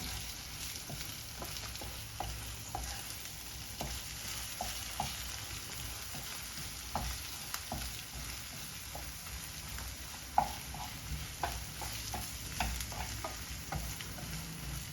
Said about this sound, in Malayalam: ഇനി ഇതൊന്ന് ഇളക്കിയിട്ടൊന്ന് വേവിച്ചെടുക്കാം.